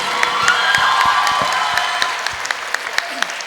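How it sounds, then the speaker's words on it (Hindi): An audience claps and cheers, with loud, dense applause and a few scattered shouts that thin into separate claps toward the end. "एक बार जोरदार तालियां बनती है कि नहीं बनती है?"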